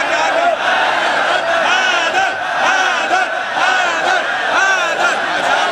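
A loud, dense crowd chants Haidar Haidar together at a religious majlis, with massed voices rising and falling in repeated rhythmic calls.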